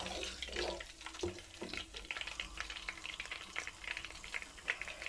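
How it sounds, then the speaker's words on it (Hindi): Whole spices (khada masala) frying in oil in a pan for a Pakistani kofta aloo dish: a steady, faint sizzle with scattered crackles and light stirring scrapes, and no speech. "तो बस इसको 1 मिनट तक बस इसमें हल्का सा फ्राई करेंगे।"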